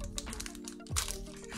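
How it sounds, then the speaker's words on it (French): A Magic: The Gathering Core Set 2021 booster pack is torn open, crinkling foil wrapper with a sharp crack partway through, close up and fairly quiet. "Ouverture d'un nouveau booster."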